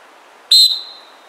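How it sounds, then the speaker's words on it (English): One short, sharp, shrill whistle blast, loud and close, stands alone against quiet background. "I carry a whistle."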